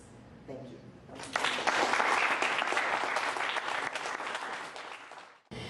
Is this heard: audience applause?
yes